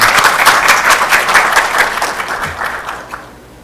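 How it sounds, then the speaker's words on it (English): An audience gives a round of applause after a public presentation for a dean position, dense clapping that is loud at first and then thins and fades out toward the end. "let's give a round of applause"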